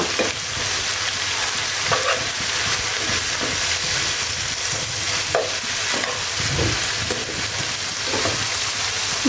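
Water spinach frying in a pan with shrimp, a steady loud sizzle with spatula scrapes and stirring clatter throughout, no voices.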